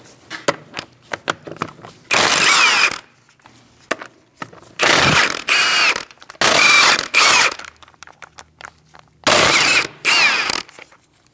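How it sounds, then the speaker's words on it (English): Ratchet with a 17mm socket removing a front wheel on a 2000-2006 Mini Cooper: several bursts of rapid, loud ratcheting clicks, each lasting about a second, separated by quieter handling clatter and taps. "Using a 17mm socket, we're going to remove our wheel."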